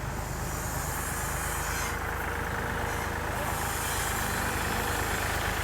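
The original diesel engine of a Kubota L3608 tractor runs steadily at idle, a continuous low rumble with no pauses, close by and fairly loud.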